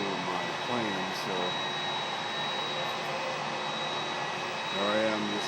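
A parked airliner's jet engine holds a steady, thin high-pitched squeal over a broad whine at an airport, with faint voices briefly murmuring underneath.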